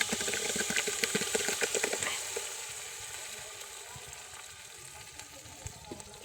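Spice goes into potato dal frying in a pan, giving a loud crackling sizzle with stirring clatter that settles into a quieter, steady hiss and occasional pops, with no talking.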